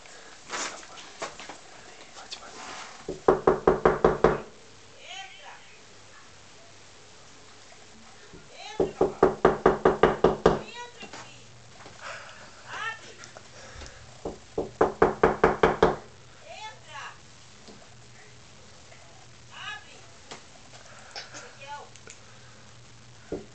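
Knocking on a door by hand in three loud, rapid bursts of about eight knocks each, spaced several seconds apart, with quiet voices and background sounds between the bursts.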